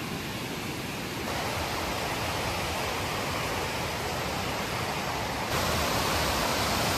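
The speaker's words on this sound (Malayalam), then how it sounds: "ഒരു സൂപ്പർ ഹെവി വാട്ടർഫോൾ ആണേ." A heavy waterfall at a private plantation resort in the Valparai forest sends out a dense, unbroken roar of falling water, steady and loud with a slight swell partway through.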